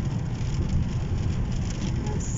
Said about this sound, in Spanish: Como que para acá está más intensa la lluvia.